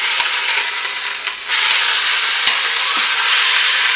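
Beef searing in olive oil in a frying pan, a loud, close, continuous hiss and crackle with a brief dip and a couple of light knocks from the pan or a utensil.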